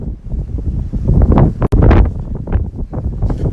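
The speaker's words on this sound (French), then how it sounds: "Checkez-moi ça, la rafale." A strong gust of wind blasts across the microphone on a residential street, a loud, rough roar that surges and buffets throughout with a brief dropout midway.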